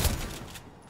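A burst of gunfire in the Fortnite video game, a sharp loud crack at the start that fades within a second, with no talk over it.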